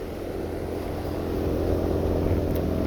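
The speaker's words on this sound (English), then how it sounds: "I'm going to go stand in the wind of the fan" A car's radiator cooling fan blows steadily close by, a constant low whooshing drone that grows slightly louder, with no voices.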